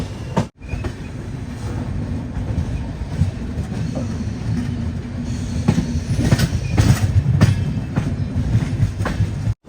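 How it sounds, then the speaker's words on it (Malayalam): A train pulling into Ernakulam Junction railway station, a loud, close, continuous rumble of wagons with wheel clatter and metallic squeal rising toward the end. "എറണാകുളം ജംഗ്ഷൻ റെയിൽവേ സ്റ്റേഷനിലേക്ക് ഇത് നമ്മുടെ ട്രെയിൻ എത്തിക്കൊണ്ടിരിക്കുകയാണ്"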